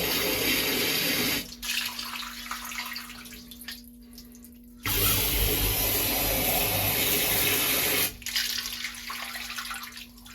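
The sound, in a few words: water running into a boat's anchor rain locker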